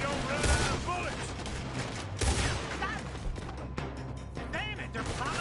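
A frantic Red Dead Redemption 2 shootout during a robbery, with volleys of rifle and pistol shots cracking near and far, booming impacts and shouting voices layered over the gunfire.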